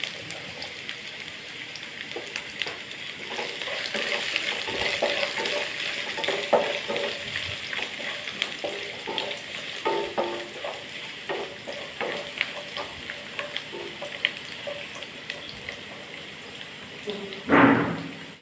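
Chopped ginger, garlic and green chilli sizzle in a pan with coconut pieces, a steady moderate frying crackle broken by stirring scrapes, ending with a sharp clatter near the end.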